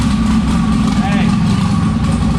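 A boosted car on a dynamometer at about 22 psi of boost, making roughly 1294 horsepower with the tires spinning, gives a loud, continuous low engine roar with a faint whine above it.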